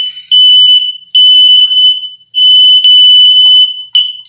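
Loud, piercing electronic beeps from a sensitive home smoke alarm set off by cooking, sounding in long repeated bursts with short gaps between them, close by.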